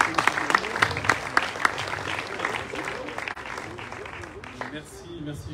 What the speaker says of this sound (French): on peut quand même l'applaudir de nous accueillir ici